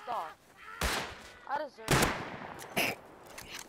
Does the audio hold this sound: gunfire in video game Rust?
yes